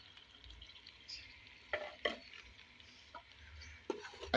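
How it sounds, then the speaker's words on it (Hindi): Tripe (ojri) being stirred in a cooking pot makes faint, close scraping and wet stirring strokes over a low sizzle, with a few sharper clicks of the spoon against the pot. "अच्छे तरीके से मिक्स कर लेंगे"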